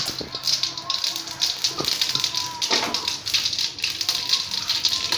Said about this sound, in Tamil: கடுகு நல்லா பொரிஞ்சு வரட்டும்.